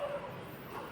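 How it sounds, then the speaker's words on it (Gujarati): A dog barks and yips faintly at a distance outdoors, short bursts half-buried in a steady wash of background noise. "કૂતરા હજી ભૂમે છે એવું છે મિત્રો."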